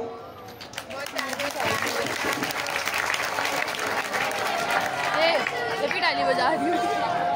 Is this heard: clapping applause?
yes